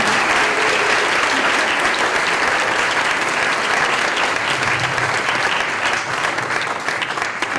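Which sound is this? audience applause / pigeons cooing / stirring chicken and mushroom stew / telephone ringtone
audience applause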